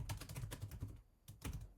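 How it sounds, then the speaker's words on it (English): Rapid keystrokes clatter on a computer keyboard in quick close bursts, with a short pause before a final few taps. "as soon as I type in"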